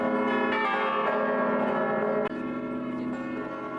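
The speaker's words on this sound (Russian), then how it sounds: "А вот и тот самый колокол, который непрерывно звонит." A church bell in Birgu, Malta rings continuously with rich, sustained overlapping tones, loud and steady throughout.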